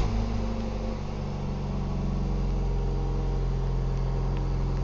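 A 2001 Chevrolet Cavalier with about 206,000 miles idles steadily just after its first start following repair work, a continuous low engine hum with a droning tone and no voices.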